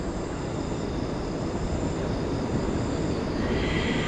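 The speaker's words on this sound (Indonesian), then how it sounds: "Kayak suara kereta hantu." Train passing close by on a night road, a steady loud broadband roar and rumble that holds unbroken throughout with no voices.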